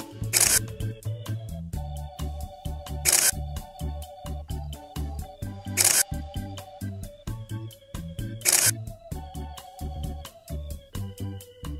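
A camera shutter clicks in a steady repeating pattern in a children's cartoon about Chevrolet cars, over bright, bouncy music.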